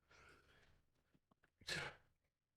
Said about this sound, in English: I just had a sneeze come out of nowhere.